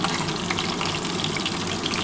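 Chicken kebabs fry in oil over a low gas flame, giving a steady, dense crackling sizzle that holds evenly from start to finish with no voices.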